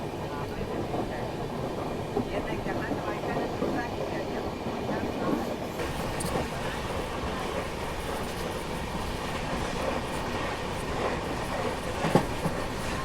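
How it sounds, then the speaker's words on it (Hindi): Indore Daund Express passenger train rolling along the tracks toward Ujjain, a steady close rumble of wheels and carriage throughout with faint clicks, heard from inside the coach. "हमारी ट्रेन अब यहाँ से निकल चुकी है उज्जैन की तरफ"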